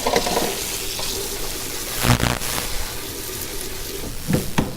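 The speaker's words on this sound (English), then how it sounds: "I'm just going to go ahead and dump them into a colander in the sink and run some water over them" Tap water runs into a sink over black beans in a colander, a steady broadband rush with a few brief splashes and clatters, close and continuous throughout.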